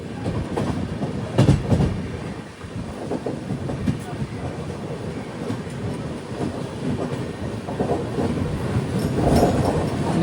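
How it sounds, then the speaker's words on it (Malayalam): The Kerala Sampark Kranti Express rolls through Aluva station without stopping, heard from inside as a continuous rumbling clatter of wheels on track with occasional clicks and brief squeals, steady and moderately loud. "ട്രെയിനിപ്പോൾ ആലുവ സ്കിപ്പ് ചെയ്യുകയാണ്."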